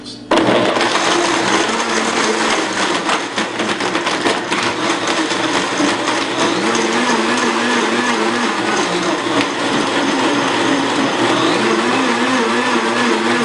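A Super Blend Tech blender on its smoothie setting crushes ice into a smoothie, a loud steady whirring grind that runs continuously with shifting motor pitch as the speed changes automatically.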